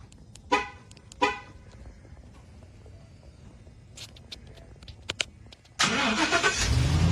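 Ford F-150 pickup with an aftermarket remote starter: two short horn chirps, a few faint clicks, then the engine cranks and catches into a steady close idle, no talking.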